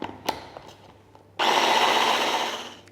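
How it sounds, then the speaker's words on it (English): An immersion blender whirs into loud, steady motion partway through, blending eggless tiramisu custard after a few quieter clinks and scrapes, running continuously to the end. "And I like to do this just in my immersion blender."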